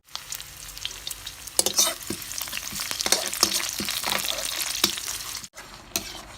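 Apple snails stir-frying with holy basil in a hot pan, a steady loud sizzle with scraping stir strokes throughout, a brief drop near the end before sizzling resumes.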